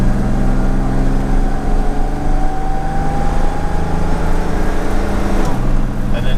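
A Jaguar E-type with a known fault driving on the road, its loud engine droning steadily in second gear before a clear gear shift near the end, with a brief voice over the engine.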